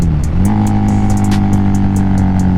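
Harley-Davidson V-Rod Muscle motorcycle accelerating from a 40 mph roll, engine note climbing steadily after a brief dip, loud and close throughout with a sustained throaty drone and rising pitch.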